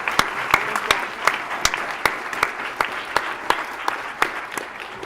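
Applause for a college honor society team at a Phi Theta Kappa induction ceremony, steady crowd clapping with sharp individual claps standing out, sustained at moderate loudness.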